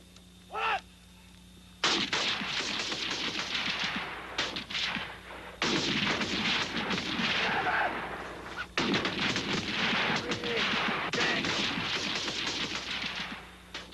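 Firearms fired at a paramilitary shooting range, dense loud bursts of rapid gunshots in several long volleys with brief pauses between them, close and continuous.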